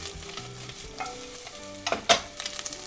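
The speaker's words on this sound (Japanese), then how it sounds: "ここでアスパラとベーコンを、しっかりと炒めていってですね" Asparagus and bacon stir-fried in a pan for carbonara, a soft steady sizzle with scraping stirs and a few sharp spatula clacks near the end, close up and without speech.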